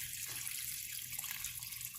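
Water from a tap running steadily into a pot of chicken bones for bone broth, a continuous close splashing rush with no voices.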